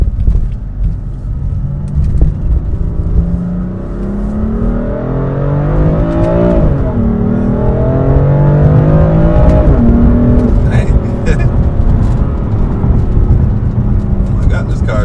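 A car in sport throttle mode accelerates hard, its engine note climbing through rising revs with a gear shift near the middle, loud and close from inside the cabin, with people talking over it.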